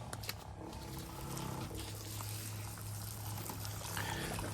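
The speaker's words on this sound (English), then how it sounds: "That's the sound of an airlock." Air being pulled through an airlocked pipe on a UK softwash system, a continuous gurgling, sputtering rush of water and air, steady and fairly faint throughout.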